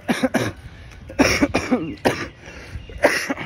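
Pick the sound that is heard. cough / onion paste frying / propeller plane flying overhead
cough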